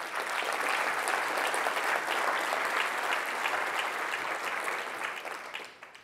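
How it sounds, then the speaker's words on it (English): A seated audience at a regional economic summit gives a sustained round of applause for member organizations, dense steady clapping filling the room for about six seconds before tapering off at the end. "So round of applause for all our great members."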